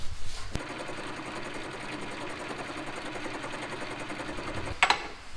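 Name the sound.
part spinning in a lathe while sanded with sandpaper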